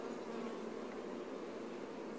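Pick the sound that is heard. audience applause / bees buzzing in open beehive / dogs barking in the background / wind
bees buzzing in open beehive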